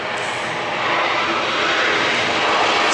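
Jet airliner engines roar past at Atlanta's airport, a dense, continuous rushing drone that swells slightly louder as the aircraft goes by, with no voices.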